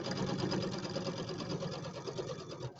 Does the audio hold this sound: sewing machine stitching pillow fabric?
yes